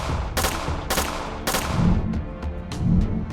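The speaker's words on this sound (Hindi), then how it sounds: "फातिमा ब्लास्टिंग गन से फायर करने लगती है" A blasting gun fires a rapid series of loud, sharp bursts, three big blasts followed by several quicker, fainter shots, amid an animated action scene's background rumble.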